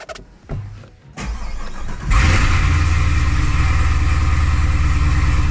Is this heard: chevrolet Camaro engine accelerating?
yes